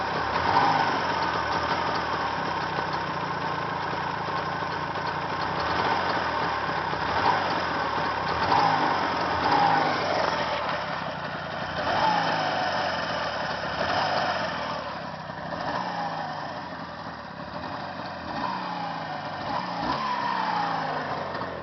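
A new motor engine idles quietly at low, steady revs, a continuous close-up hum with no throttle added, running alone without talk.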